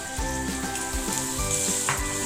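Chopped tomatoes frying in hot oil for a brinjal and potato gravy, a steady close sizzle with faint stirring clinks and a low hum underneath.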